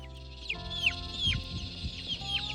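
Baby chicks peep and cheep with high descending chirps while nearby hens cluck softly in a low rhythmic chatter, close and moderately quiet, on their first night outdoors.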